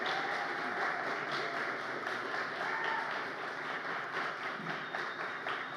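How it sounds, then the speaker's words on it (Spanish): A studio audience gives steady, moderately distant applause for a guest named Martina, with even, continuous clapping at fairly low volume. "aplausos para ella"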